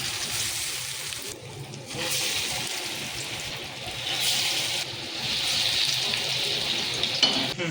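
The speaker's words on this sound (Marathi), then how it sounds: "कढई तापायला ठेवली, तेल गरम करायला ठेवले. आता याच्यामध्ये आता आपण वडे टाकून घेऊ" Steady, loud hiss and crackle of methi (fenugreek) vadas deep frying in hot oil in a kadhai, with bursts of bubbling that swell and ease, continuous throughout with no talking.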